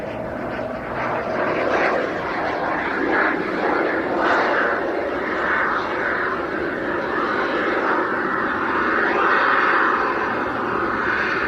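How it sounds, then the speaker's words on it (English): A propeller display aircraft at the Ayr airshow drones steadily as its turbines spool up, a continuous broad engine roar of even loudness with no voices. "I can hear the turbines spooling up again."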